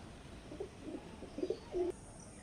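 A pigeon of the Lambadi breed, brought from Andhra, coos a few times in short low bursts, close by, with the last coo the longest and strongest, and no voices.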